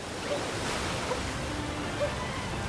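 Waterfall basin in Super Mario Odyssey, a steady broadband rush of falling water, loud and continuous with no break, carrying faint scattered tones on top.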